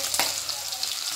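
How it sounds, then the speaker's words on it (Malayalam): Ginger and garlic hit hot oil for a fried mackerel dish, giving a loud burst of frying sizzle that settles into a continuous crackling hiss. "നമ്മുടെ എണ്ണ ചൂടായിട്ടുണ്ട് നമുക്കതിലേക്ക് ഇഞ്ചി വെളുത്തുള്ളി"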